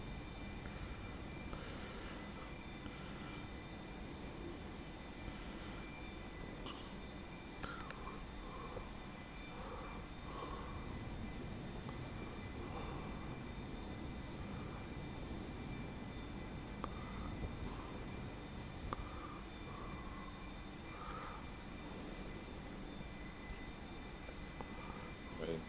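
A military aircraft engine in a flight sandbox game drones steadily as the plane heads in toward a runway, a continuous even roar with faint small clicks and no talking.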